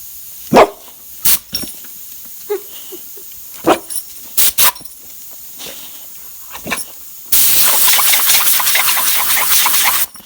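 A dog barks in sharp, separate bursts near a garage workshop where a VW Bus is being restored, then a loud steady hiss of compressed air from an air compressor takes over and drowns out the barking.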